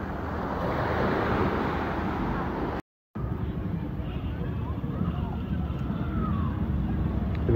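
Ocean waves at sea off the Thai coast give a steady, loud broadband roar mixed with wind buffeting the microphone, continuous apart from a brief dropout near the three-second mark.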